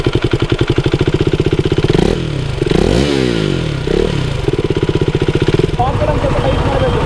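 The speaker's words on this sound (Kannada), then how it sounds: "ಫ್ಯಾನ್ ಸೌಂಡೇ ಜೋರಿದೆ ಎಕ್ಸಾಸ್ಟ್ ಗಿಂತ." A BS4 KTM Duke 390 motorcycle idles with a loud, even pulsing beat, revs up and drops back twice midway, then settles again, with a cooling-fan whir that rises above the exhaust note near the end.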